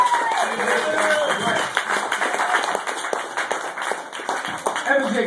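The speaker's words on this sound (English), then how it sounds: "No, seriously, clap it up for Evan." Audience clapping for comedian Evan Jacobs at the end of his comedy set, a lively room of scattered hand claps rising and falling with a few cheers mixed in.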